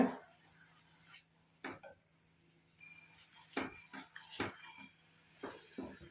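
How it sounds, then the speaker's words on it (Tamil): A spoon scrapes and clinks against a bowl while mixing coffee powder with gooseberry powder for a homemade hair dye paste, sparse irregular taps and scrapes over quiet background. "இந்த காஃபி பவுடரோட நெல்லிக்காய் பொடியும் சேர்ந்து நல்லா வந்து மிக்ஸ் ஆகணும்."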